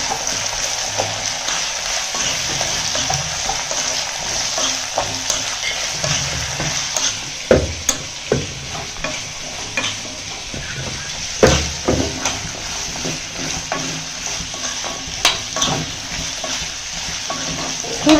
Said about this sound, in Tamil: இஞ்சியை கொஞ்சம் இந்த மாதிரி வதக்கி விட்டு பண்ணிங்கன்னா நல்லாயிருக்கும்